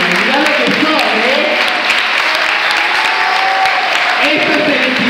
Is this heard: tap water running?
no